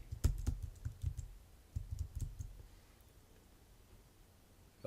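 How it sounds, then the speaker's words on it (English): Computer keyboard typing a job-search entry, a quick burst of clicky keystrokes, a pause, then another short run of keys, close and fairly quiet, no voices. "I'm going to type in our occupation that we're going to search"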